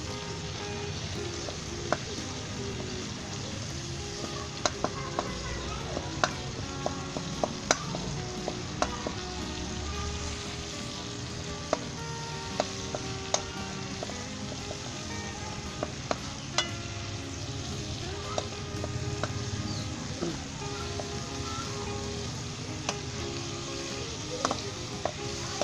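Chicken frying in a pan for Pakistani-style Chinese chicken rice, a steady close sizzle running throughout with scattered clinks and scrapes of stirring.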